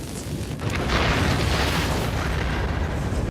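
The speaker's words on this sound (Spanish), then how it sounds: "Aquí están las 15 explosiones más grandes captadas en cámara." A loud, sustained blast roars with dense, broadband rumble for a few seconds before ending abruptly.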